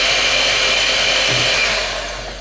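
An electric whisk whirs steadily through eggs, water and muscovado sugar for a chocolate log sponge, a loud, close, continuous motor drone that eases slightly toward the end.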